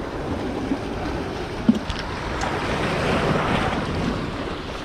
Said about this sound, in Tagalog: Lakas ng alon o.